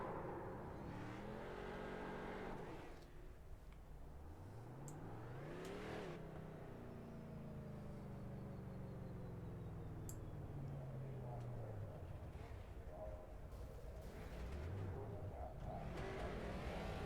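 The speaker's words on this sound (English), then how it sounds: "burnouts coming from Brady there as they celebrate his win" Race cars do celebratory burnouts at Michigan in a sim racing game, engines revving and rising and falling in pitch as wheels spin, the note sweeping up and down through several long passes, steady and fairly loud.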